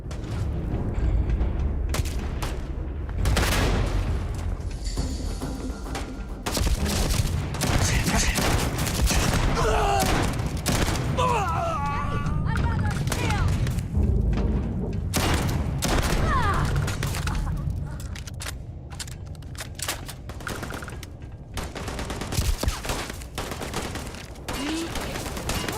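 Shotgun fire rings out in a sci-fi video game with mechs, loud booming blasts repeating amid clanking mechanical noise and a dense, continuous din of battle.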